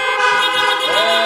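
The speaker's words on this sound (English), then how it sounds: "give them a little honk for that" A car horn at a drive-in church service sounds one long, loud, steady honk that lasts the whole moment, close and with nothing else over it.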